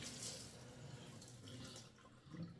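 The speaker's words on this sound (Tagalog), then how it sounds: "Maghugas po muna tayo ng kamay." Warm tap water runs steadily into a kitchen sink as hands are washed before wrapping lumpiang shanghai, a faint continuous splash with no speech.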